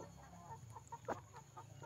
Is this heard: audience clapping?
no